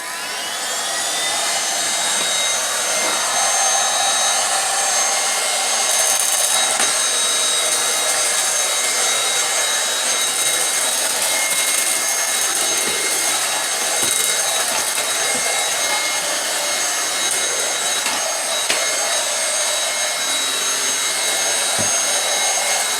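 Bissell Ion Pet 2286A cordless vacuum sucking up scattered cat litter around litter boxes, a loud, steady high-pitched motor whine running throughout with faint rattles of grit being pulled in, no voices.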